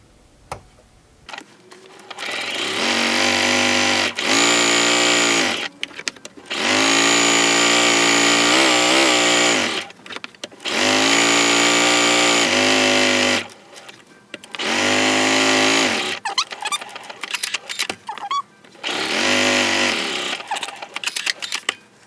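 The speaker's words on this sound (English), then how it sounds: "we're going to sew a 1/4 inch all the way around" A sewing machine stitches a quarter-inch seam around a fabric placemat, running in several loud, close bursts of a few seconds each with brief pauses between.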